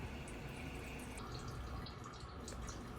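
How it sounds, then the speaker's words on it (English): Engine oil draining from a 2021 Toyota Camry, a steady close trickling and dripping of liquid running continuously and evenly throughout, with no voices. "I usually like to let the oil drain a little bit."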